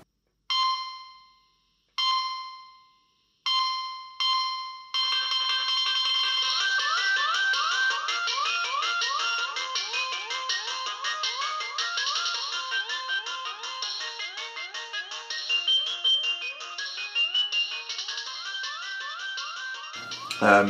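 Nokia mobile phone ringtones play, opening with three separate short electronic tones, each fading out, then a loud, continuous, rapidly cycling melodic ringtone that runs until the end.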